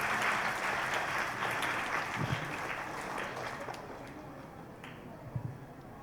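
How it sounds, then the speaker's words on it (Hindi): Applause from an audience of students welcoming a guest at an Independence Day cultural function at a women's college, a steady broad wash of clapping spread through the room for several seconds, moderately loud and continuous. "जोरदार तालियों से स्वागत होना चाहिए बच्चे।"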